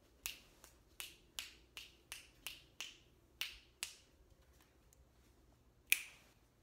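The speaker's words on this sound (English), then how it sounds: "Snapping my fingers." Fingers snap about ten times in an uneven, slowing rhythm, crisp and close in a quiet room, with one sharper snap after a short pause.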